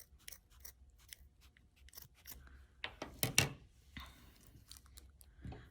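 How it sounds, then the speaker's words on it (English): Scissors snip close and quiet, cutting a small triangle of material for a pinecone gnome's hat, with irregular crisp clicks and short crunchy cuts. "So I might cut a triangle and kind of follow the lines of the gnome, being very careful with the scissors"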